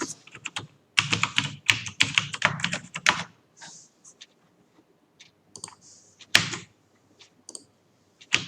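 Computer keyboard keys typed in quick irregular bursts and pauses while entering C++ code, close and crisp clicks with a few louder thunks from heavier keystrokes.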